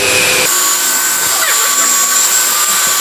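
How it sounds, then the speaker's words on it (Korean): A Porter-Cable long-neck wall sander runs with a vacuum hooked up, giving a loud, steady whine and broadband rush that holds throughout after a brief shift in tone near the start. "그러니까 청소기를 연결해 놓으니까 여기에 딱 붙어서 먼지가 계속 집중되는 느낌이거든요"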